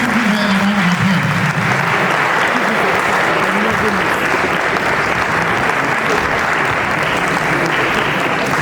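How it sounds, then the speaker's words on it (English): Loud, dense audience applause fills the hall at a school speech and prize-giving day, sustained at an even level with some crowd voices mixed in. "Let's give her a round of applause."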